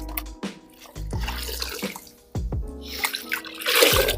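A water hose rinses a car panel, its spray rushing and splashing close by in uneven bursts that stop and restart several times.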